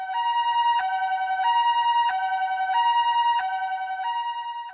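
A Dark Souls boss theme passage imitates a Japanese ambulance siren: a bright, pure two-tone figure alternating steadily between a high and a lower pitch, loud and clean with no voices.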